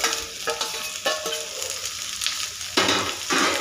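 Ivy gourd (tendli) pieces fry in a pan until crisp, giving a steady close sizzle broken by several sharp stirring scrapes and clatters.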